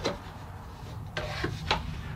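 A hand plane shaves the edge of an acoustic guitar plate, giving two or three short, close rasping strokes over a low background hum.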